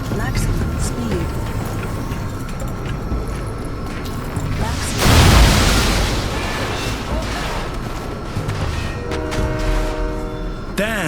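A moving train rumbles in the video game Crysis Warhead, a loud continuous roll with a heavy boom midway and a horn-like tone near the end, while voices talk over it.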